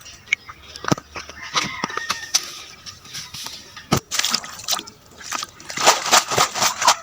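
Fresh Malabar spinach leaves splashed and rinsed by hand in a village pond, with irregular water sloshes and drips, some sharp close splashes, and faint birds and a rooster in the open air around.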